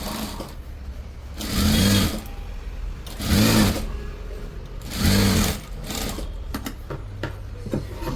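A sewing machine stitches an embroidered blouse in three separate bursts of fast whirring, each lasting under a second, with quiet gaps between them. The machine is close, with light room noise in the background.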